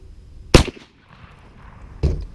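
Two sharp, loud gunshots about one and a half seconds apart from a .32 caliber black powder mule ear side-hammer pistol fired offhand at a 25-yard bullseye target outdoors, each a close crack with a short decaying tail.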